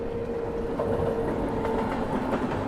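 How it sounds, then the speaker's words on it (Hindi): The Valsad-Haridwar train passes close by as a steady rumbling roar of rolling wagons, with faint wheel clatter and a low tonal hum throughout, heard from on board another train. "आगे यहाँ से कोई ट्रेन भी क्रॉस हो रही है"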